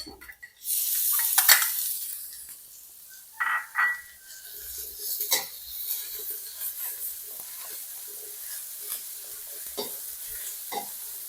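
Pork stir-fried in a pan for a Thai young pumpkin shoot stir-fry, giving steady close sizzling with scraping and clattering spatula strokes throughout, strongest near the start.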